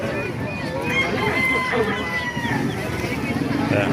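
Chickens cluck and a rooster crows amid a busy animal market crowd at the Baliuag tiangge in the Philippines, with people talking throughout.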